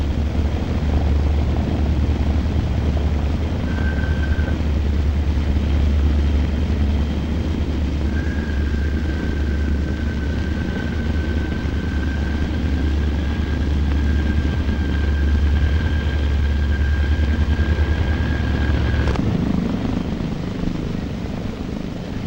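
An aircraft engine at a runway near Tehran roars steadily and loudly throughout, a broad droning rumble with a high whine sustained across the stretch before cutting off near the end.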